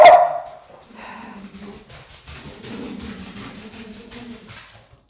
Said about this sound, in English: He is barking at every construction vehicle that goes by.